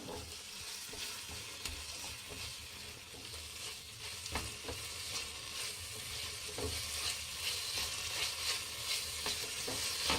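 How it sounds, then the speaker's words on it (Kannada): Tomatoes cook in a pan for hotel-style egg rice, giving a steady close sizzle with scraping stir strokes throughout and no talk. "ಮೆತ್ತಗಾಗಂಗೆ ಬೇಯಿಸಬೇಕು ಟೊಮೊಟೊ"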